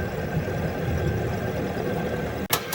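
A lathe with a sharp carbide cutter takes a final pass down to a 3 mm cut, giving a steady, close mechanical whirr and hum that ends with a brief sharp clunk.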